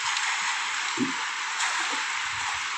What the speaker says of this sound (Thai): คลื่นลมแรงมากนะครับ